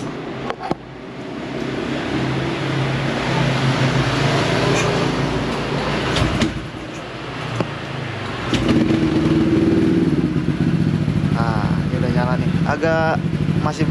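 A freshly bored-up Honda PCX 160 scooter engine idles roughly and heavily up close, a steady low mechanical drone that swells slightly partway through, with someone talking over it.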